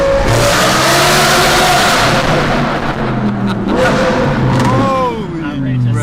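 A Lamborghini Huracan LP610-4 engine downshifts in the driving game throtl, loud and close, with revs dropping and rising in quick blips and a rising pitch toward the end. A voice talks over the engine.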